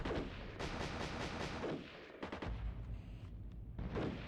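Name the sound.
anti-aircraft gun firing in Armored Brigade II video game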